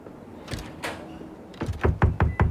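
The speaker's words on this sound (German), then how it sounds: "An die Tür klopfen." A series of knocks on a wooden door in the video game The Bookwalker: Thief of Tales, loud and close, with a few irregular raps followed by a quicker run of five or six thuds near the end.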